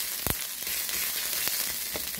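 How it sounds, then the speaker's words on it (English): Onions and sweet peppers frying in a pan give a steady close sizzle, with a few sharper pops and crackles rising over the hiss; no voices. "as I let my onions and sweet peppers brown up a little something"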